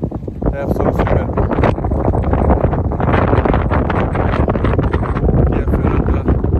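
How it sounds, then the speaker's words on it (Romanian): Strong wind blasts across the microphone on a mountain summit at the end of the Cheile Turzii via ferrata, a loud, continuous roar that buffets steadily throughout. "Bate vântul într-un mare fel."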